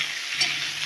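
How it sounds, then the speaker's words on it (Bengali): Spice paste being stirred into an eggplant and fish curry in a pan, a soft steady sizzle with light scraping, brief and fairly quiet. "এই যে মশলাটা দিয়ে এবার নাড়াচাড়া করে নেবো ভালোভাবে।"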